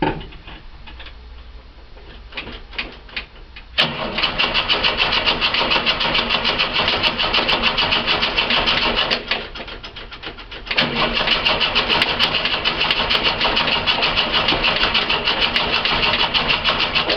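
A Ford XE Falcon cold start with an old ignition key: a few seconds of faint ticking and cranking, then the engine fires into a loud, steady idle that dips briefly before settling back to a constant roar.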